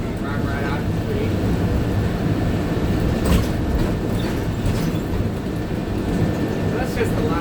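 A Healthline bus rapid transit vehicle rolls along Euclid Avenue near East 14th Street in Cleveland, giving a loud, continuous low road rumble and drone with brief higher rattles, heard from on board.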